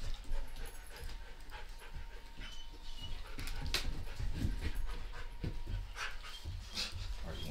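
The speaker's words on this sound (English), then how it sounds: "These dogs, though, man." Dogs pant rapidly and continuously close by, with occasional faint whimpers and small clicks over the steady breathy rhythm.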